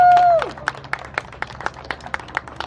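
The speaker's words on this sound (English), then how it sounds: "So round of applause." Scattered claps from a small crowd at the opening ceremony for the Riddler Mindbender ride at Six Flags Over Georgia, following a brief tone at the start, with a thin, sparse rhythm at moderate distance.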